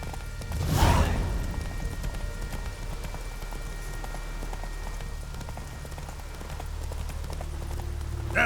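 Horse hooves clop in The Witcher 3 as the horse sets off, with a brief louder burst early on, then a soft, steady patter of footfalls over quiet ambience.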